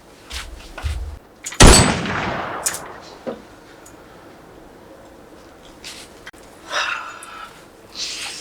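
Gunshots fired at a person in a film scene, a loud sharp blast followed by fainter bursts and scattered thumps, with a quiet stretch between.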